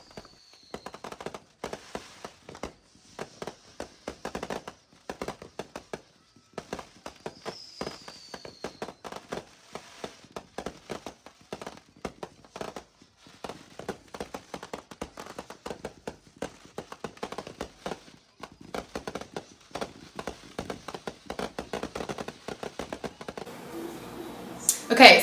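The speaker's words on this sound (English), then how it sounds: "here is me and the boys getting ready to watch some fireworks" Fourth of July fireworks crackle and pop in dense, irregular volleys of sharp bangs, mostly distant, continuing for a long stretch with people's voices heard now and then.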